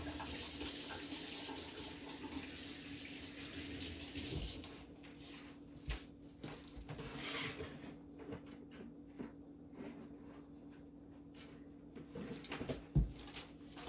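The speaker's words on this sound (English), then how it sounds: "I washed that down the sink and washed my hands" A sink tap runs water while someone washes their hands, a soft steady stream at first, then quieter splashes and drips with small clunks, close by and without talking.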